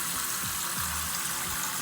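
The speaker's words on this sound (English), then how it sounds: "put the hot water in." Hot water runs steadily from a tap into a sink bowl, a constant close hiss of pouring water with no break and no voices.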